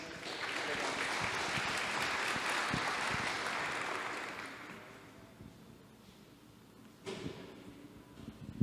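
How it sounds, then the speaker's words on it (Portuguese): An audience at a forum during the Mate World event at ExpoGramado breaks into a dense wash of applause that holds steady for several seconds, then fades away, followed by a brief knock and murmuring voices. "Uma salva de palmas, gente"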